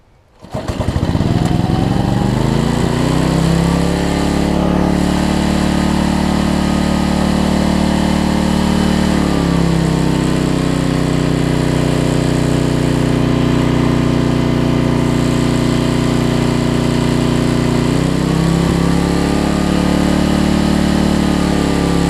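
A Homelite LR4400 generator engine, with a recently adjusted governor and a new carburetor, starts up and runs loud and close with a steady drone, its pitch surging up and down a few times as the speed shifts.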